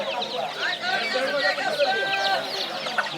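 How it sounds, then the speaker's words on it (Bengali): Big roosters and hens clucking close by at a Sunday poultry market in Sonargaon, busy overlapping clucks and squawks with voices murmuring underneath. "বড় বড় এক একটি মোরগ মুরগি"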